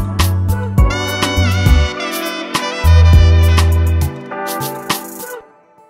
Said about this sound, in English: this part is a bit of a bass switch up